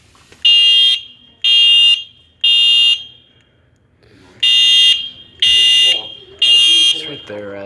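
A fire alarm blares in loud, piercing beeps, three long tones, a pause, then three more, with people moving and faint talk in the background between and after.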